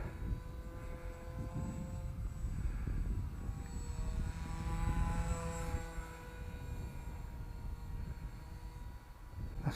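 A homemade foam RC plane built from skip foam flies at full throttle, its electric motor and propeller giving a steady, fairly loud buzzing whine with a slight rise and fall as it passes, and no talking.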